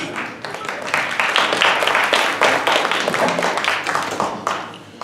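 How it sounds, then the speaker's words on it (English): An audience at the Black Spectrum Theater breaks into sustained clapping and applause, a dense, loud patter of many hands that swells and then eases off over several seconds. "Applaud yourselves."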